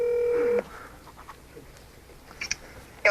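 A telephone gives a held tone and then stops, followed by faint quiet room noise and a few soft clicks as a call is placed.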